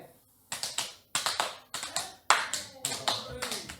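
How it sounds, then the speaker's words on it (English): An audience claps and slaps hands on knees in a steady clap-slap-slap rhythm, several crisp repeating bursts of hand sounds that build and continue at a close, moderate volume. "it's a clap, slap, slap, clap, slap, slap, clap, slap"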